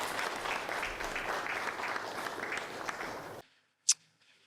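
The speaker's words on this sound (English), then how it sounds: "Big round of applause." Applause from an audience at a money and automatic investing seminar, steady moderate clapping for over three seconds that cuts off, followed by silence and one brief sharp click.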